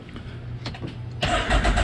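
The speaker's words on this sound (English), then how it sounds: "Now we're gonna let the engine run for about a minute" A Can-Am Maverick X3 side-by-side engine cranks briefly and then catches, settling into a loud, steady running note nearby with no talking.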